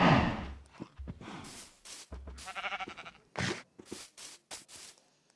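Bleating sheep in the video game Minecraft, several short nasal bleats in quick succession with brief gaps, close and clear, alongside small game sound effects.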